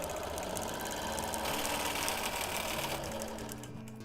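A sewing machine free-motion quilts a wholecloth baby quilt. Its bobbin case rattles as a loud, continuous, close mechanical whir with rapid stitching chatter, easing slightly toward the end.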